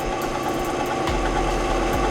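WEN variable speed drill press running at low speed, a steady mechanical hum with a soft rhythmic low thumping, close and continuous.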